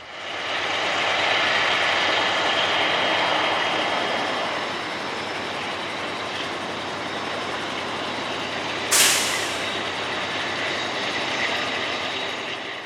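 A CSX freight train hauling wood chip hoppers rolls past near a Norfolk Southern interchange, a loud sustained rumble and rail roar that swells early, holds steady, and carries a brief sharp screech partway through.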